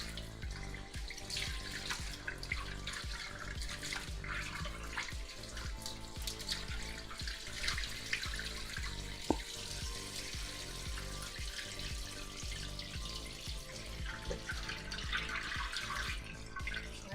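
A faucet runs lukewarm water into a sink to rinse a synthetic wig, a steady splashing flow lasting throughout with small drips and clatters, close and fairly loud, with no talking.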